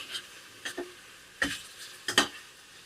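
Tomato chutney with tamarind, turmeric and salt is mixed in a pan, a quiet low sizzle broken by a handful of scattered scrapes and clinks of the spoon.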